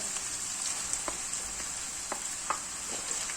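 Tomatoes dropped into a pan of sautéed onions give a steady bright sizzle of hot oil, broken by a few sharp stirring clicks and spatters, fairly quiet and close with no voices.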